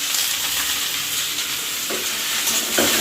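Potatoes sizzle loudly in a hot wok while a spatula scrapes and stirs them, a steady frying hiss with a few scraping strokes.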